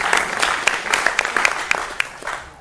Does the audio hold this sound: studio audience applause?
yes